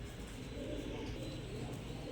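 Black dopas pigeons of fine quality coo softly and continuously at a Bangladeshi pigeon farm, a low murmuring drone under faint ambient noise.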